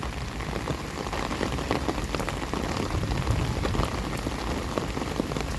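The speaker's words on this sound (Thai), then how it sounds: "ฝนถล่มมา" Heavy rain pours down steadily, a dense hiss of drops hammering a surface with no pauses.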